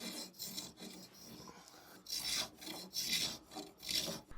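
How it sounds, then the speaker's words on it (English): A spokeshave shaves a chamfer along an oak wood edge in rhythmic rasping strokes, softer at first, then three louder close scrapes about a second apart. "which I just brought back with a spoke shave"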